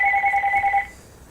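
A phone rings with a steady two-tone electronic trill that stops abruptly after under a second, loud and close, followed by faint room noise.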